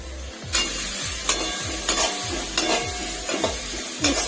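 Chopped ginger and a large chopped onion are stir-fried in a pan for homemade mixed fried rice, with a low sizzle under rhythmic stirring strokes that come roughly every half second, and no talking.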